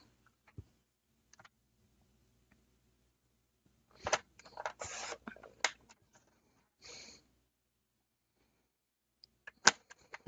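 Sparse, quiet snips and rustles from cutting card stock with scissors or a trimmer, a short cluster of cuts in the middle and a few isolated clicks around it in a quiet room.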